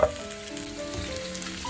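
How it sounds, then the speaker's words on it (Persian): Potatoes frying in hot oil in a covered pan, giving a steady close sizzle with a small pop at the start. "سیب زمینی هامون رو میریزیم داخل تابه، میذاریم تا 5 دقیقه با درب بسته بپزه."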